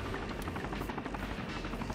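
A Black Hawk helicopter runs close by, its rotor beating in a fast steady chop over a low engine drone, heard faintly and alone with no talk.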